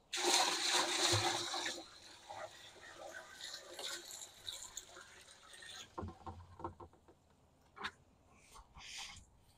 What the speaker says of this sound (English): We'll dump this in the bucket and add some water and we'll be done.